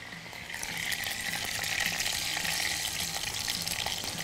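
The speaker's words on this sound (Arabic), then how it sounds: "ده بحمره ازيد سنه من الثوم بتاع الصلصه، يعني بغمقه سنه بسيطه" Garlic fries in hot ghee with a dense, continuous sizzle at close range, holding steady and fairly loud throughout with no talk over it.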